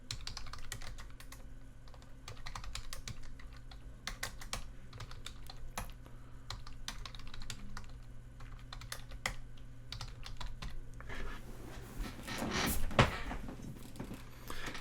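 Steady, close keyboard typing at a computer as C# code is entered: quick irregular key clicks running throughout at low level, with a brief louder bump of handling near the end and no talking.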